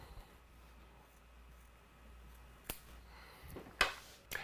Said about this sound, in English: now with my scissors or rotary cutter, then we can cut off that piping strip in line with our cuff